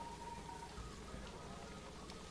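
Heavy rain pours down steadily in Planet Coaster 2, a dense, even hiss with low rumble and scattered droplet patter throughout, moderately loud and with no talk over it.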